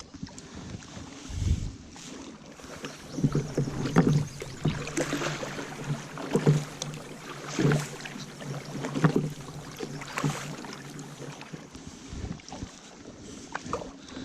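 Paddling a Pelican two-seater boat on water on a spring evening, with soft splashes and strokes over steady wind noise and low rumble, moderately close and fairly faint.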